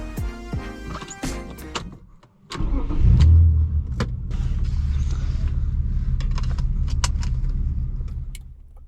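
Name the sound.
getting into a car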